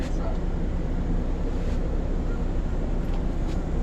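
A boat engine runs at a port in Northern Samar, Philippines, as a steady low drone with wind and water noise mixed in and a voice speaking nearby.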